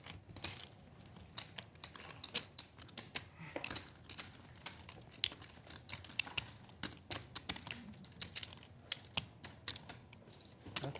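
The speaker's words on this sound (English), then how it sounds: "Nothing like the sounds of chips." Rapid, clustered clicking and clacking of poker chips being stacked and riffled, a dense run of sharp taps close by with no talking.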